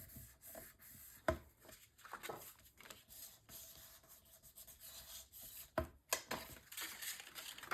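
Paper flaps on a mini album page are burnished flat with a tool, making repeated soft rubbing and scraping strokes at close range with a few sharper taps, and no talk over them.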